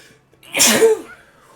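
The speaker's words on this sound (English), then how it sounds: "Had to do a big sneeze there." A single loud sneeze bursts out after a short quiet moment, a sharp breathy blast that fades quickly, followed by faint background noise.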